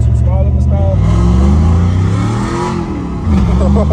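LS-swapped Chevy S10 revving hard and launching, the engine note rising and climbing through a pull, loud and close, with voices talking over it.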